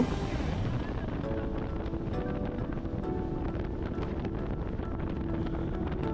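A boat running fast across open sea off the Maldives, with steady roaring wind buffeting the microphone, a low engine drone and rushing water, continuous and loud with no voices.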